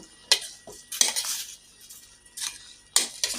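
A utensil stirs clam meat in a cooking pan, giving about four distinct scraping, clinking strokes spaced by short pauses, close and fairly quiet with no voices.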